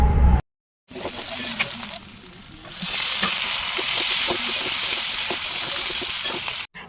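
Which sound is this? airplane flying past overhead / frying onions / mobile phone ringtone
frying onions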